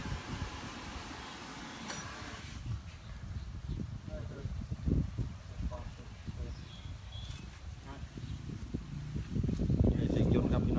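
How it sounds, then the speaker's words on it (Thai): Thai Seng Yont combine harvester with a JO84 turbo engine and a broken roller, idling parked as a steady low rumble with fan-like whoosh that swells near the end, while a voice talks over it. "นี่เสียงยนต์ครับพี่น้อง"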